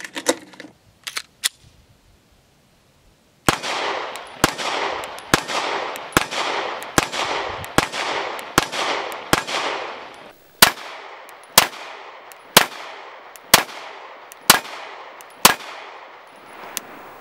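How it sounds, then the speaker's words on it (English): Pistol shots from an Arex Delta M Gen 2 compact firing Fiocchi ammunition ring out outdoors: a few scattered shots, a pause, then a long steady string of about twenty loud, evenly spaced reports with ringing decay. "so we're going to do a lot of shooting."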